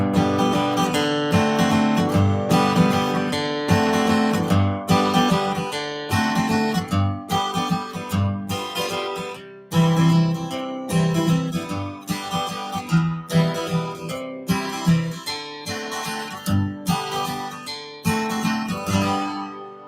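Acoustic guitar strums a chord progression exercise in 3/4 time at a steady tempo, ringing chords struck in an even, repeating rhythm, close and clear with no talking.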